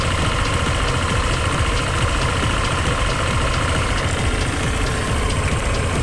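A Honda PCX scooter engine idles close by, giving a steady, even mechanical hum with a faint rapid ticking throughout and no pauses or revving.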